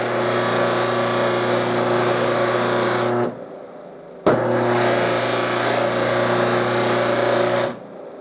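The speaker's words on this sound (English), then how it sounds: "when you're done buffing the one side, just turn it around and buff the other side." A buffing wheel polishing a metal brace flange whines loudly and steadily at close range, stopping abruptly for about a second before spinning back up and running again until it cuts off near the end; no voices.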